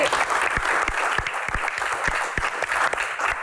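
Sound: audience applause

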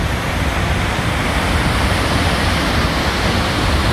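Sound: Baker River flowing near its confluence with the Nef

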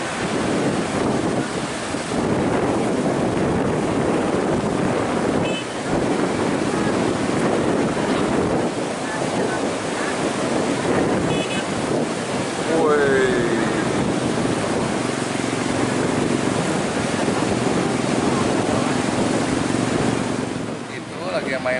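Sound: big ocean waves at Pangandaran beach

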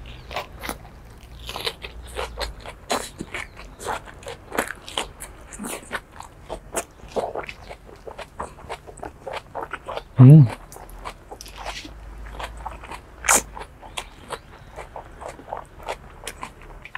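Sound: crunchy homegrown lettuce bibimbap being chewed

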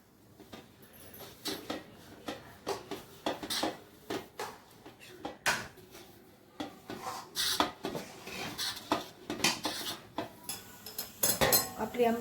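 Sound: scraping thickened ambil from the pan into a greased plate

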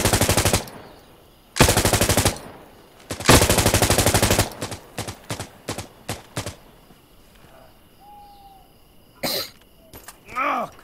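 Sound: gunfire in video game Insurgency Sandstorm

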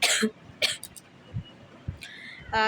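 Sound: coughing

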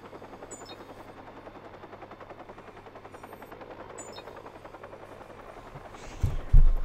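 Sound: helicopter chase in the video game Watch Dogs

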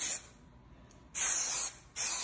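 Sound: spray painting a PS5

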